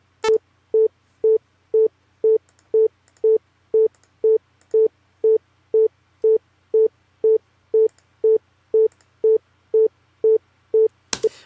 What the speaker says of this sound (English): Okay, so we've got the sine wave playing.